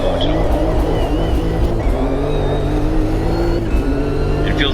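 Engine of a race car in Automobilista 2 drones loud and close with steady revving under heavy throttle, its pitch shifting as the car slides, while a voice talks faintly underneath.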